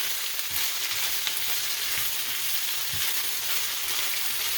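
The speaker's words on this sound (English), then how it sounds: "we want to stir it every once in a while" Onions frying in a pan, a dense, steady close-up sizzle with a few soft stirring scrapes now and then, no voices.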